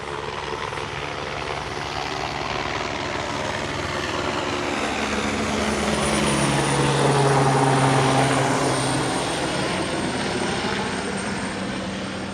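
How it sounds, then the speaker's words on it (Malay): Police helicopter circling overhead above a cordoned area near a housing construction site, a continuous loud rotor throb and engine whine that swells and recedes slightly as it passes, with no talking. "Unit udara helikopter PDRM juga telah beredar mengelilingi kawasan kepungan semula."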